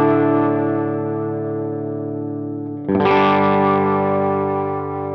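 Electric guitar sustaining a chord through an Electro Harmonix Stereo Pulsar pedal set subtly, its faint shimmer like a light chorus, then a fresh strum rings out louder; close and alone, no talking.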